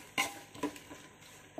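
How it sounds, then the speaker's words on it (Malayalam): Sliced onions are stirred in a cooking pan with a few soft scrapes and light clinks of the utensil against the metal, quiet and close with gentle sizzling underneath. "സവാള ഇട്ട് കൊടുത്ത് അപ്പം നന്നായിട്ട് ഇളക്കി ഇട്ട് കൊടുത്തേക്കാം"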